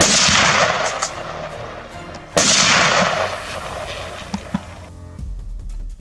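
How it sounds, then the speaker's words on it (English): A loud rifle shot cracks out during a wild boar hunt, its blast and echo rolling away, followed by a second sharp report midway and a few fainter distant pops near the end. "The shot ripped through the air, and the boar dropped to the ground almost instantly."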